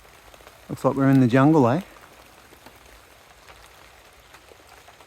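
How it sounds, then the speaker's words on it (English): Light rain falls along a coastal fire trail near Pearl Beach and Patonga in Brisbane Water National Park, Australia, a faint steady patter of drops continuing behind a brief spoken remark and then on its own. "Here comes the rain."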